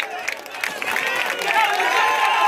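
A crowd applauds and cheers at a football final prize ceremony on an open village ground, a steady wash of clapping swelling toward the end, with a voice speaking over it.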